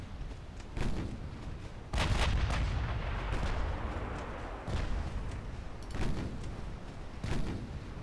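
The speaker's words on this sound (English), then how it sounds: "Let's get the 6-inch guns involved. Switch to high explosive." Six-inch naval guns fire high explosive shells in a naval warfare video game, with several heavy booming blasts spaced irregularly over a constant low rumble, some shots loud and close, others duller.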